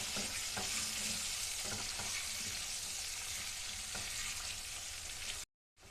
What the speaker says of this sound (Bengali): এটাকে ভালোভাবে ফ্রাই করতে হবে।